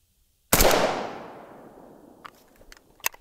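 A single sharp rifle crack as a 5.45 steel-core 7N6 round strikes homemade body armor set at an angle, followed by a long fading outdoor echo and a few faint clicks and knocks.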